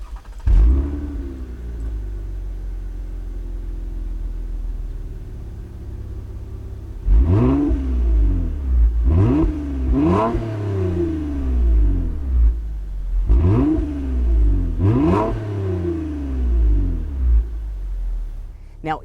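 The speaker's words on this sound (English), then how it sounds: "the standard catback exhaust, and it has a really, really nice sound to it, so I'll go ahead and let you listen to it." A 2020 Toyota Camry TRD with its standard catback exhaust idles with a steady low rumble, then revs sharply four or five times in distinct bursts, each rising and falling, close and loud with no talking.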